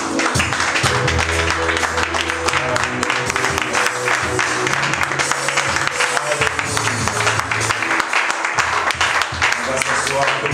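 A church congregation applauding and cheering, sustained loud clapping and crowd noise throughout, with a voice speaking over it and music underneath.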